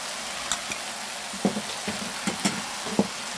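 Korean fish cake sizzles steadily while being stir-fried in chili oil, with a constant frying hiss and several sharp scraping clicks of a utensil against the pan, close and with no talking.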